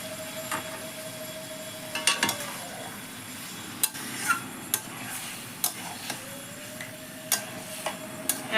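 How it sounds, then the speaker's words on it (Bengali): Chicken curry with Kashmiri chilli powder and a little water, stir-fried over low to medium flame, a soft continuous sizzle broken by frequent sharp clicks of a ladle against the pan. "এখন চিকেনটাকে আমি সুন্দরভাবে কষাবো।"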